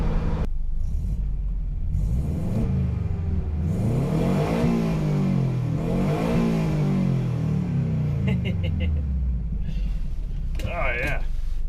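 A Turbo Loyale car with a WRX wheel driving and accelerating, a close rumbling engine rising and falling through gear changes, with a person talking over it.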